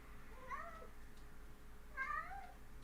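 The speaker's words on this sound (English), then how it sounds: "can you hear the desperation in those meows?" A cat meows twice, about a second and a half apart, each call drawn-out and plaintive over a quiet background hum.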